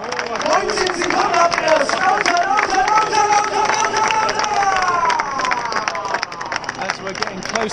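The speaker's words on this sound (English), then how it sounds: "As we're getting close to the start, we're clapping the start." Marathon runners and spectators clapping and cheering near the start line of the Frankfurt Marathon, a dense rhythmic crowd din with voices calling out and chatter mixed in, loud and close.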